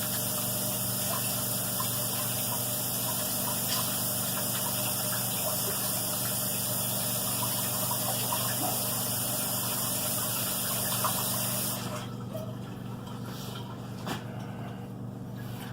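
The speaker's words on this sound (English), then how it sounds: "Let me wash my hands." Tap water runs steadily while hands are washed at a kitchen sink during squirrel frying prep, a continuous close rushing flow that cuts off near the end, leaving a quieter room.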